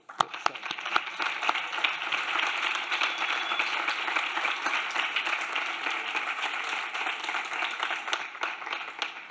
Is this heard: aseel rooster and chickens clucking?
no